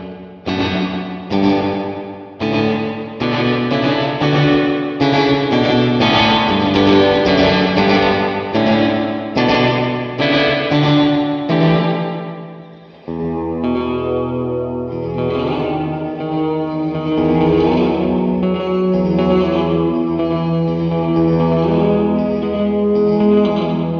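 Electric guitar through a Mojohand FX Dewdrop reverb pedal with the mix fully up plays chords and notes drenched in heavy reverb, long washing tails blurring each strum; loud and continuous, no voices.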